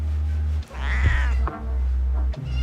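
A friendly shelter cat named Mr. Scott meows from a kennel in a holding space, one drawn-out, wavering cry with a distinctive voice, loud and close over a steady low hum, followed by brief soft sounds.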